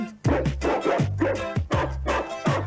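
A voice imitates a dog, giving a quick series of about six yappy barks in a steady rhythm, close and clear.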